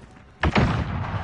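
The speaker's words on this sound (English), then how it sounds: "Flashbang out!" A flashbang grenade lands in a video game firefight with a single sharp thunk near the middle, then a short ringing, noisy tail that holds at a steady level.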